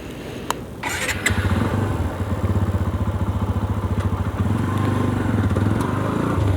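TVS Apache 160 2V motorcycle engine on a test ride, starting with a few clicks and then settling into a steady, loud, pulsing exhaust note that rises slightly after a brief dip, heard close with no talk.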